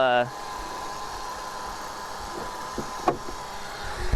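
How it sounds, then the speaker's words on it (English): A car engine runs quietly in the background with a steady hum. A brief voice is heard at the start, and a soft thump comes near the end. "So you might hear my engine"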